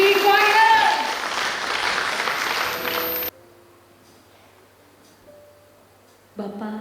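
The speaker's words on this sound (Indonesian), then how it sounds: "kasih tepuk tangan untuk Filipi Choir" A church congregation applauds the Filipi Choir during an Ascension Day worship service, with broad clapping over a sustained tone that stops abruptly partway through, leaving a quiet room before voices return.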